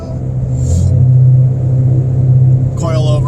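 Car accelerating, heard from inside the cabin as a loud, low engine rumble that swells and holds for a few seconds, with brief speech at the end.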